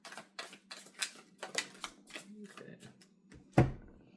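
Tarot cards handled and shuffled at a reading table, heard as a run of quick, crisp flicks and slaps about every half-second, with a louder snap near the end and no talking over it.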